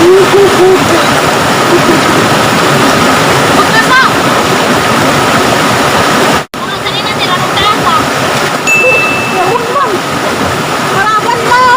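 A river rushes steadily and loudly close by, a continuous roar of churning water with splashes, broken once by a brief cut; people call out over it now and then.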